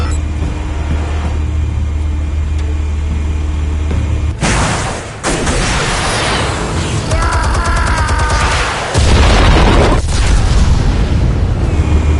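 Explosives going off in a Batman video game, a loud sustained rumble broken by several heavy booming blasts and crackling debris, close and dense without any talking.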